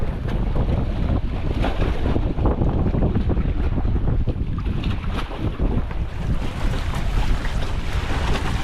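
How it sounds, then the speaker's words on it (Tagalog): Strong, steady wind roars and buffets the microphone throughout on Borawan Island, Padre Burgos, Quezon, among rock formations, a dense low rumble with gusty surges and no voices. "Kaya lang, sobra lakas ng hangin."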